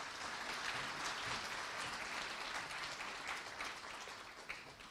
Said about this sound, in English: Can we have a huge round of applause for the artist, please?